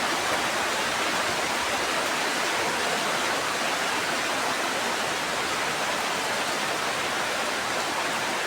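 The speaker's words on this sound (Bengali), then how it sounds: "কত দূরে বৃষ্টি আসছে।" Dense rain after a storm pours down in an unbroken, loud hiss, close by and steady from start to finish with no voices.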